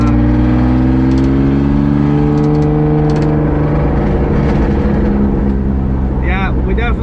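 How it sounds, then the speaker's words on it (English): BMW E36 with an RK Tunes OBD1 chip and Borla exhaust, not yet welded, revs hard with a loud, steady engine drone and crackle-pop bursts near the end, recorded up close. "we definitely got the crackle pop tune"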